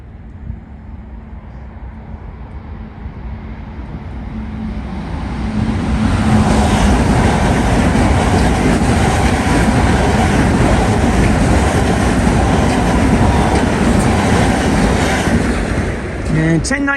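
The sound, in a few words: LIRR train 1019 passing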